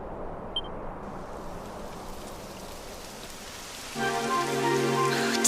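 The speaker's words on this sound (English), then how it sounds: "Typical. It would have to go and start raining, wouldn't it?" Steady rain in Dragon Quest XI hisses softly throughout, and near the end a brighter, louder texture with faint tonal hum joins in; no speech.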